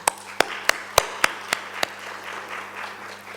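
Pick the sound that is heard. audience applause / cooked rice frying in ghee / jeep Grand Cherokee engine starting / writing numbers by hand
audience applause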